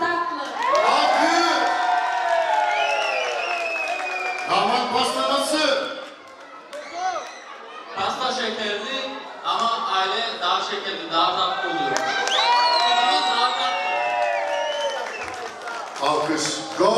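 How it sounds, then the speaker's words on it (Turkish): Guests at a wedding cheer and whoop loudly for a long stretch, with excited shouting voices and some clapping mixed in, the crowd noise rising and falling throughout. "Alkış."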